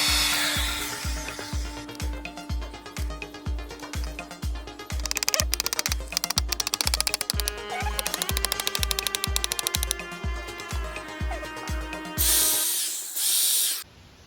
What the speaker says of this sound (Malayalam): ഇതേപോലെ ആണി കൊടുത്ത് നമ്മളത് ഫിറ്റ് ചെയ്തെടുക്കുന്നു